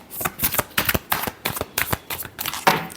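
A deck of tarot cards being shuffled during a reading, giving rapid papery riffles and soft slaps in uneven bursts, close and fairly loud, with no one speaking.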